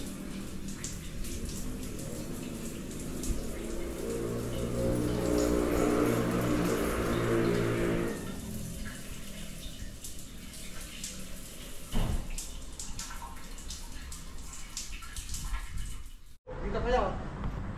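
Weak water flow runs from a tap in an upstairs bedroom of a house with low pressure, a steady hiss and splash that swells in the middle, while people talk nearby throughout.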